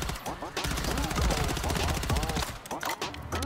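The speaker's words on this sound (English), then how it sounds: "it actually shoots these nice little like 2D tracer rounds and it makes a bunch of arcade noises as well" Warzone arcade-blueprint gun firing 2D tracer rounds in rapid, continuous bursts mixed with bright electronic arcade blips, loud and steady for the whole stretch.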